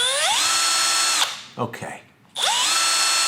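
A cordless hammer drill spins up under its variable-speed trigger, whining high and loud, then cutting off. After a short pause it revs up again, and a single brief word is spoken in the gap.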